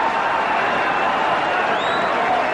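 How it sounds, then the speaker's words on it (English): Tennis crowd at the 1985 Forest Hills final roaring and urging on John McEnroe against Ivan Lendl, a dense, steady wall of cheering and voices filling the stadium throughout. "crowd exhorting John to dig down deep"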